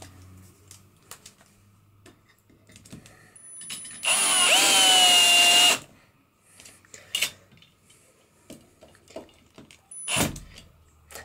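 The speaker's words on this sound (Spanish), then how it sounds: "Y ya ponemos el primer tornillo." Power drill driving the first screw to mount a folding shelf, one loud whirring burst of about two seconds, then quiet handling knocks and a brief final buzz.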